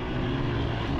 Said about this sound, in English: Just watch however much you want, and enjoy the two-stroke sound